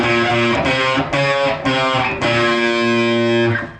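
A driving, distorted electric guitar riff, with its parts joined: four or five loud, crunchy power-chord stabs in a steady rhythm, each ringing briefly before the next, played alone.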